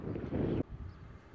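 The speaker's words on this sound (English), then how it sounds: "The wind's making it really hard to record close in" Gusty outdoor wind buffets a microphone beside a fishing swim, a heavy low rumble that holds for about half a second, then cuts off abruptly to a quieter, faintly ruffled background.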